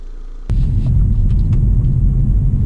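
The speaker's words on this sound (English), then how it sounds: "And now all that's left is to drive the X2." A 2018 BMW X2 SUV coupe gets under way after a brief quiet start, a steady loud low rumble of engine and road noise building and holding without pause.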